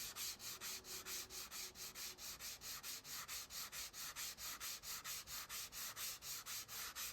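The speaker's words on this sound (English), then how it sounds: "Just sand it out." Shaped solid wood is hand sanded in quick, even back-and-forth strokes, a soft rhythmic rasping repeated about three times a second, close and quiet with no voices.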